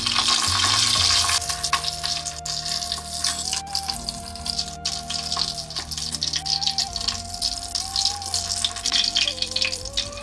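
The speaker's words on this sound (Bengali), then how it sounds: "কড়াই বসিয়ে সর্ষের তেল গরম করব। মাছের পিসগুলো ছেড়ে একটু কড়া করে এপিট ওপিট ভেজে তুলবো।" Fish pieces fry in hot mustard oil in a kadai, making a dense, continuous crackling sizzle close by that holds steady throughout, with a faint tonal hum in the background.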